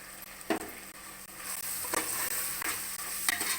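Ground spices, including coriander, cumin and pepper powder, sauté in a pan for chicken soup, giving a soft continuous sizzle with several clear stirring scrapes, close and unaccompanied by speech.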